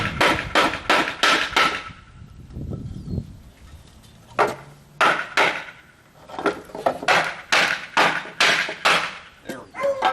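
Wooden pegs are hammered into a mortise and tenon joint, with bursts of sharp, evenly spaced knocks in quick runs separated by brief pauses, loud and close, with a low thud between strikes.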